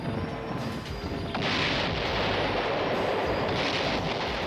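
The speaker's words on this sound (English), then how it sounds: "they're going all out with this one particular explosion sound effect this episode" A cartoon explosion sound effect, a rumbling blast that swells into a loud sustained roar and holds for several seconds, with no voices over it.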